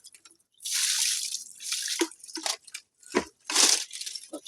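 Water is poured by hand onto the base of a freshly planted climbing vine tied to a string support, making close, irregular splashes and trickling drips in several uneven bursts.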